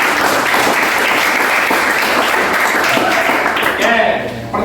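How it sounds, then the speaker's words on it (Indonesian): A classroom of students applauds at a teacher's prompt during a chemistry lesson, with dense, loud clapping that holds steady for several seconds, then fades near the end. "berikan tepuk tangan"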